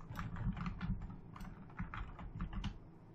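Fingers tap quickly on a computer keyboard, a quiet, irregular run of light clicks with short pauses between bursts and no voices.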